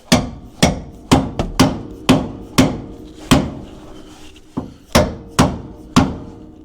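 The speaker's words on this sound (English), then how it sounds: "let's pound out that bolt" Steady hammer blows drive a bolt out of a 2WD twin I-beam Ford Excursion Super Duty front suspension: about a dozen sharp, loud metallic strikes in an uneven rhythm, each ringing briefly, close up and with no talking.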